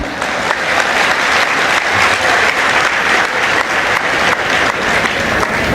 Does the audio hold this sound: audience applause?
yes